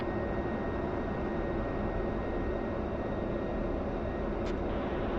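Fixed-wing aircraft flying the crosswind leg at a memorial flight, throttling back to land; a steady, distant engine drone holds evenly throughout with no voices.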